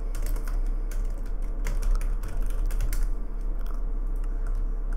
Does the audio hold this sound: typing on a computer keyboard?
yes